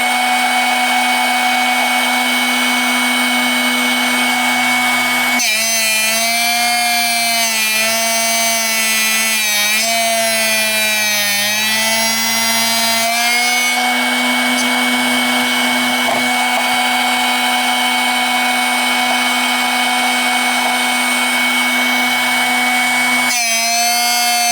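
A Drill Doctor sharpener grinds a drill bit pushed in until it bottoms out, a loud, steady motor whine with shifting pitch as the bit is worked on each side, continuous and close with no talk.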